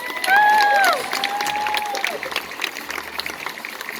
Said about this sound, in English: So why don't you all give yourselves a round of applause?